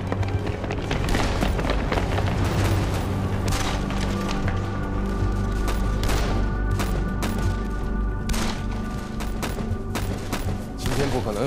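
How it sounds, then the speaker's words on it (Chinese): Gunfire from a battle scene in a Chinese spy TV drama set during the Japanese occupation: rapid bursts and heavy booms, with dramatic music and thuds layered throughout and no clear speech. "听着枪声，别的站点肯定也都完了"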